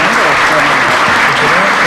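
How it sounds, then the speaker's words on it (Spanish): An audience at an international seminar on legislative technique claps loudly for a speaker, a thick, continuous burst of applause close to the microphone with some voices mixed in. "fuerte el aplauso, por favor"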